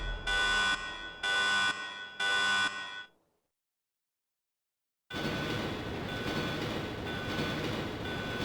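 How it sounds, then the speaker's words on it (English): A departing train's alarm in Resident Evil 2 blares in three loud, evenly spaced electronic buzzes, then cuts to silence before a steady rumble of the moving train rises and continues. "The train's going, we had the tearful, sad goodbye cutscene, but the game is still going. The alarm is sounding."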